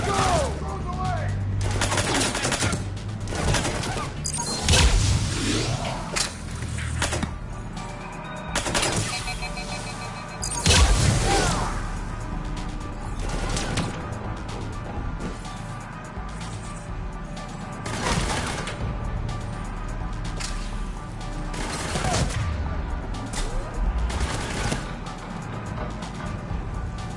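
Gunfire in the video game Mass Effect 3, with bursts and sporadic shots cracking through a dense battle mix; louder impacts land near 5 and 11 seconds, and shouted voices break in over the shooting.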